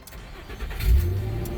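A 2007 Nissan Pathfinder engine, just fitted with a new crankshaft sensor, cranks briefly and catches into a low, steady idle, loud and close.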